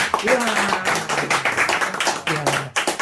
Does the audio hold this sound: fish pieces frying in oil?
no